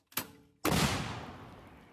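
An artillery gun fires in a combat zone: a sharp crack, then a second, much louder blast about half a second later whose heavy rumble slowly fades over more than a second.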